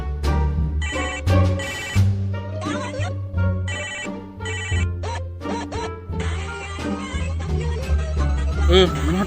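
A telephone rings repeatedly in bursts, a bright electronic ringtone over a comedic scene with music and background sounds, loud and close.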